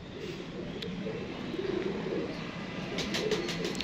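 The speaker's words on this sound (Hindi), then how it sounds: "लंगड़ा कबूतर, एक टांग वाला कबूतर" A one-legged pigeon coos in soft, low repeated calls, fairly close against a steady outdoor background hum, with a few faint chirps near the end.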